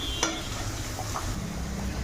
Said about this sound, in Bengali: আমি পটলটাও ভেজে নিচ্ছি।